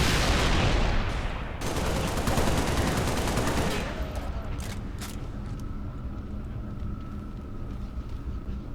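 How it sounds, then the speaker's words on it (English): Heavy gunfire in the Halo: Reach video game, a dense loud roar of automatic weapons for the first few seconds that then drops to a quieter rumble with scattered distant shots. "Keep firing. Keep it up. Heavy fire in my position."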